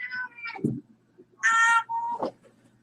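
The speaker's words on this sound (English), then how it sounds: "And this is my big cat, Darby." A domestic cat meows close by, several distinct cries spread across a short span with quiet pauses between them.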